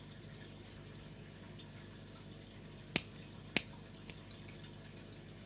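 Scissors cutting a small piece of wet cotton wick, two crisp, close snips about half a second apart followed by a fainter third click against a quiet background.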